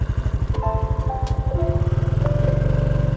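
A motorcycle engine runs nearby, its strong, even putter steady and close, with a faint tonal whine drifting over it and no talk.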